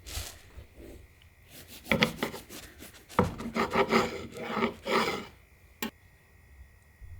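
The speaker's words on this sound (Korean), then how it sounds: "이렇게 만져보면 잘라 볼게요" A knife slices through a cooled, fluffy homemade hotcake made without butter or oil, giving close, rasping sawing strokes in a cluster of bursts, followed by one sharp tap and quiet, with no talking.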